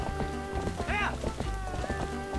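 A horse gallops in The Legend of Zelda: Twilight Princess while herding goats toward a barn, rapid clip-clop hoofbeats under game music with a brief whinny-like call.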